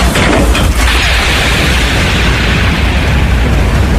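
A wooden window shutter bangs open in a storm in an audio drama: a loud, crashing burst, then a sustained roaring rush of wind. No voices are heard.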